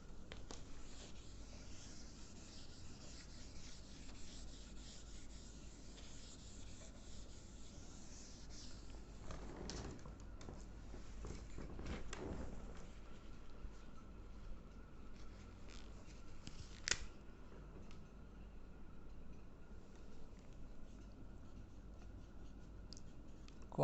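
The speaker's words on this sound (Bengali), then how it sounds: "আমি লিখে দিচ্ছি।" A marker or chalk rubs and scratches across a board in a quiet room, with faint continuous strokes and a couple of slightly louder scrapes midway.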